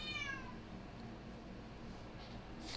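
A pet cat gives one short meow near the start, faint and a little distant over a low background hum, then quiet follows.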